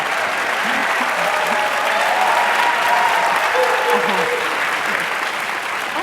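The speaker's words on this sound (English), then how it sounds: "I'm not quite sure what to make of all that applause" Sustained audience applause fills the hall at a women's leadership event, a dense steady wash of clapping held at an even level from start to finish.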